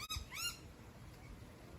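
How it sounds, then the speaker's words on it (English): Local birds squawk and call harshly in a brief agitated burst near the start, followed by quieter ambient sound. "And the local birds"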